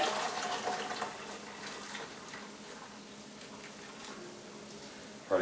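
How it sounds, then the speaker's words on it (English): Hot boiling water poured into a glass jar of old crystallized honey, a steady close rushing splash that runs for several seconds, then ends with a brief clunk. "Get this hot boiling water and pour it in there,"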